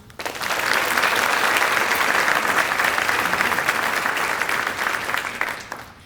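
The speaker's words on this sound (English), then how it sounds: "Please give them a round of applause" Sustained applause from an audience at a youth awards luncheon, rising quickly, holding steady and loud for several seconds, then fading out at the end.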